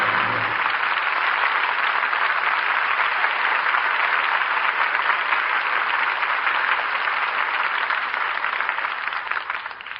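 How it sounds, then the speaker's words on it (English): A radio theatre studio audience applauds at the end of the play Jezebel, a thick, even roar of clapping that stays loud and continuous, then tapers slightly at the close, with no voices. "And we all join in applauding the artists who brought us this play tonight"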